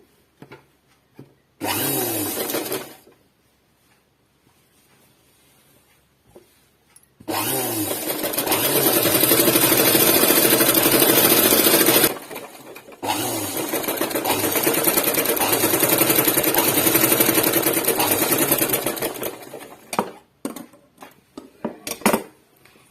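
Sewing machine stitching a collar neck dress, running in bursts: a short run of a second or so, then two long continuous runs with a brief pause between, ending in scattered light clicks.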